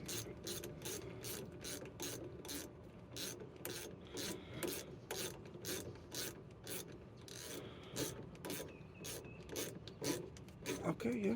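Rapid ratchet wrench clicks tightening a sway bar link on a 2008-2014 Chevrolet Silverado, steady repeated bursts of ratcheting close up that continue throughout with little pause.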